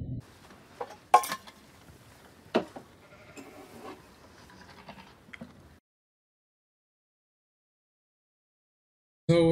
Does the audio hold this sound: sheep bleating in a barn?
yes